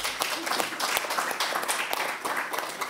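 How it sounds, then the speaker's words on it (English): Audience applause fills a conference breakout session on business models, a dense, steady wash of many hands clapping at close range with no talk over it. "Big round of applause."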